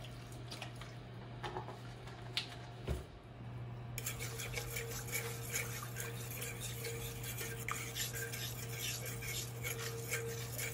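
A utensil stirring flour into chicken bone broth for gravy in a pot, with soft scraping, clinking and liquid swishing at a low level, the stirring growing steadier and busier partway through.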